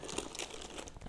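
Plastic bags holding large format film holders crinkle in a short, faint burst of soft rustling and crackling, handled close up with no voices.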